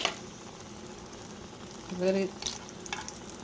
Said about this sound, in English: Okay, the patty's frying.